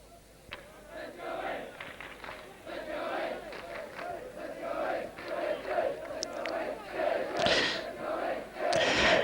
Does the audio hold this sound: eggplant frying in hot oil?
no